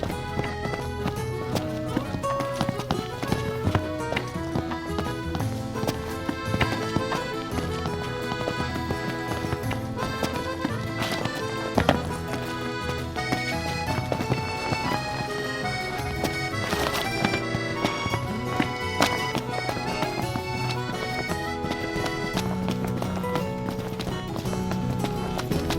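Steady clip-clop of horse hooves in the video game Final Fantasy XV over a busy musical score, the hoofbeats loud and rhythmic throughout, with no talking.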